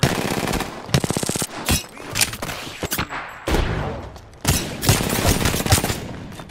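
Rapid bursts of automatic gunfire from the Apex Legends video game, several loud volleys and single shots crackling close by with brief pauses between them, no talking.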